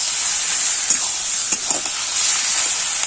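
Washed chicken pieces added to fried onions in a pan and stirred for masala chicken, a loud, dense, continuous sizzle with a few brief scraping stirs.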